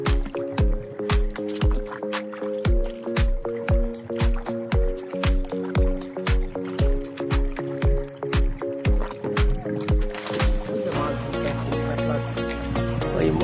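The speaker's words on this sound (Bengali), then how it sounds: "আমরা যাচ্ছি ওই পারে আবার নৌকা নিয়ে," A small wooden dinghy crosses a river with regular, rhythmic oar strokes and splashes, close and loud, before the strokes stop and softer water and background sounds take over near the end.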